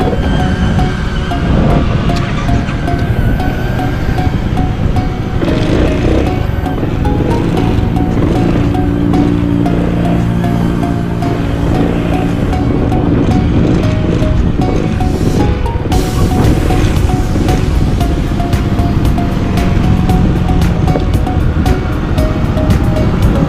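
Riding a motorbike on the road, a loud, continuous roar of wind buffeting mixes with engine rumble, steady throughout with occasional gusty swells and no talking.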